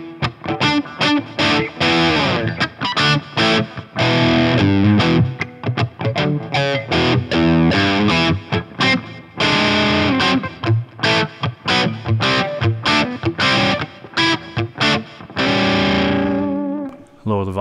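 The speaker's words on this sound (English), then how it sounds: "It's a tube-like distortion. Great dynamic response." A heavily distorted electric guitar through an EJC '41 Willys tube-like distortion pedal plays choppy, rhythmic riffs with sharp stops and bursts, loud and up close, ending in a ringing fade.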